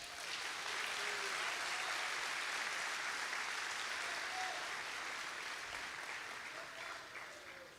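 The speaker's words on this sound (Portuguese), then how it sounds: "Você pode aplaudir a Jesus" A church congregation applauding during a Pentecostal anniversary service in Guarulhos, a steady, fairly faint wash of many hands clapping that holds for several seconds and then gradually thins out.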